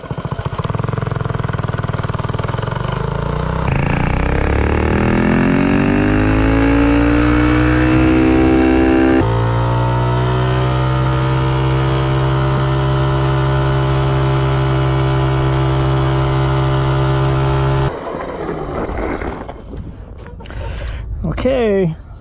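A standard Predator 212 minibike on an Azusa frame with very short tires makes a loud, close top-speed run. The engine climbs steadily through the revs, holds a high, steady drone, then cuts off abruptly and winds down.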